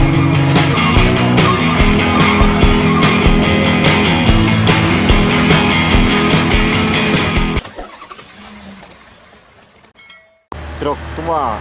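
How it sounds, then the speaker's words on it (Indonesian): An old Nissan diesel truck passes close by with a loud rumbling engine and rattling, then the noise drops away to quieter traffic background; a short voice is heard near the end. "Truk tua Nissan diesel."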